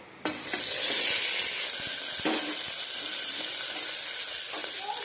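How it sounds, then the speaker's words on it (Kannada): Onion, garlic and green chilies fry in oil inside a pressure cooker. A loud, continuous close-up sizzle starts abruptly and holds steady, with a few faint stirring knocks. "ಇಲ್ಲಿ ಕುಕ್ಕರ್ಗೆ ಸ್ವಲ್ಪ ಎಣ್ಣೆ ಹಾಕ್ಕೊಂಡು ಈರುಳ್ಳಿ, ಬೆಳ್ಳುಳ್ಳಿ, ಸ್ವಲ್ಪ ಅಲ್ಲ, ಒಂದು 4 ಮೆಣಸಿನ್ಕಾಯಿ, ಖಾರಕ್ಕೆ ತಕ್ಕಂಗೆ ಮೆಣಸಿನ್ಕಾಯಿ ಹಾಕ್ಕೊಂಡು ಲೈಟಾಗಿ ಫ್ರೈ ಮಾಡ್ಕೊಳ್ಳಿ"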